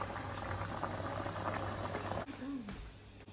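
Potatoes boiling hard on a gas flame turned up full for leek and potato soup, a dense bubbling rumble that cuts off abruptly, followed by a brief thud and faint handling noise.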